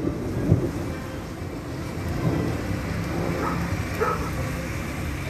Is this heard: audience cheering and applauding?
no